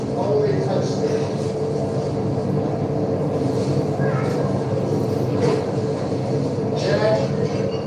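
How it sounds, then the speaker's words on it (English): Steady rumble and clatter of a train running along a track, continuous and fairly loud throughout, with occasional higher squeals on top and no clear speech. "get that train off the track. It's making noise"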